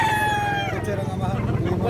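A gamecock from a Lemon Butcher bloodline crows once, close and loud, the call trailing off while other noise carries on underneath.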